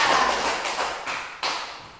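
A school class claps hands together during a lesson on leaf types, making a dense wash of claps with a few louder, distinct beats at close range.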